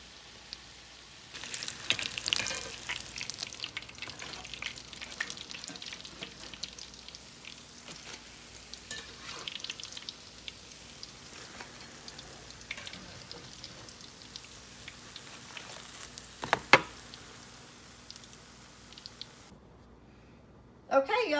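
Cornmeal onion fritters fry quietly in hot oil, a soft continuous sizzle with scattered crackles and pops, briefly louder near the end.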